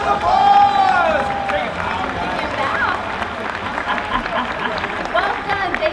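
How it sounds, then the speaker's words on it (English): Audience applause and cheering at a Universal Studios Hollywood show, a continuous crowd clapping wash with voices rising over it at moments and a woman's exclamation near the start. "Give her a round of applause."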